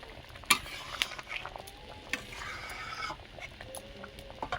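Vegetarian Bengali gravy of mankochu (giant taro) and potato simmers in a pot, giving a faint, soft bubbling hiss with occasional light clinks of a utensil.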